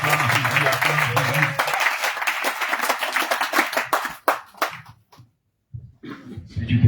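A church congregation claps and cheers in acclaim of Jesus, with loud, dense applause mixed with voices that thins into scattered claps, falls briefly silent, then picks up again.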